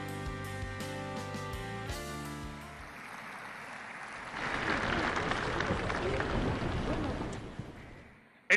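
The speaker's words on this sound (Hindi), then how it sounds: "हॉल तालियों की गड़गड़ाहट से गूंज उठा" Applause fills a hall for Prime Minister Narendra Modi at an India-Africa summit. It follows sustained musical tones, swells midway into a dense, continuous roar of clapping and holds to the end.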